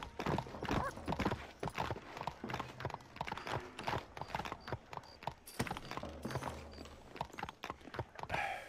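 Horse hooves clip-clop in the video game Red Dead Redemption, a steady trotting rhythm of fairly faint, close hoofbeats with occasional mechanical clicks and no talk.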